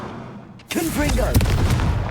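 A Confringo fire spell goes off in Hogwarts Legacy, a sudden loud burst after a quiet moment that rolls into a dense, booming rumble, with a voice briefly overlapping the blast.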